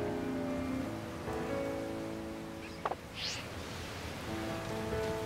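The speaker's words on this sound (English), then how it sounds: "Oh, now it's starting to rain" Steady light rain hiss in the Pokemon Violet video game, a soft even patter running throughout with faint game music tones and one brief chime-like blip near the middle.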